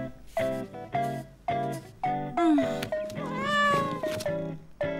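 A cartoon cat meows again and again, a quick run of clear, close, expressive meows. Some are drawn out and wavering, with short gaps between them.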